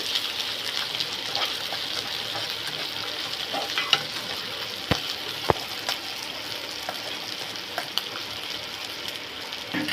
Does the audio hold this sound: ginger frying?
yes